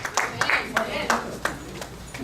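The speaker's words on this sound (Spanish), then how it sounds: "vamos a dar un fuerte aplauso al Señor por la vida de nuestro hermano" Church congregation clapping in a steady rhythmic beat, about seven distinct claps at even intervals, with voices heard underneath.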